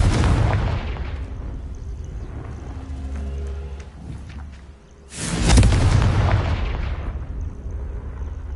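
Confringo blasting spell detonating in the Hogwarts Legacy video game, two heavy booming explosions with rumbling tails, the second burst louder and followed by a long crackling roar that fades slowly.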